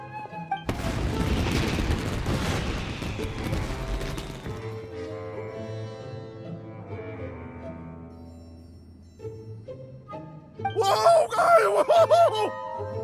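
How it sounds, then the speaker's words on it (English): Fireworks burst in the video game Genshin Impact: a long crackling, booming barrage followed by ringing tonal sparkle, then a fresh loud cluster of bangs near the end, with a voice briefly heard. "Yoimiya, this is turning into a bit of a fireworks display."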